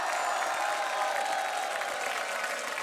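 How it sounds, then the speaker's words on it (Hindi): Moderate applause and light crowd noise from a studio audience on The Kapil Sharma Show welcoming actor Shakti Kapoor, steady and fairly soft, with a faint musical tone underneath. "तो इनके लिए तालियां हो जाएं भरपूर, क्योंकि आ रहे हैं आओ शक्ति कपूर।"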